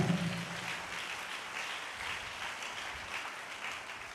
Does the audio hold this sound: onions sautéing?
no